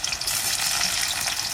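Chopped onion drops into hot mustard oil in a pan for a mutton curry, giving a loud, continuous frying hiss that stays steady through a short moment with no talking.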